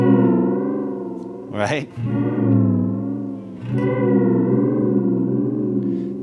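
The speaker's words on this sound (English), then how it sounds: "if I crank this up, I start to actually get additional signal after I finish playing something" Electric guitar played through an EarthQuaker Devices Sea Machine modulated delay pedal cranked up, sustained chorused chords with warbling repeats trailing after each strum, close and loud, with a brief spoken word in between.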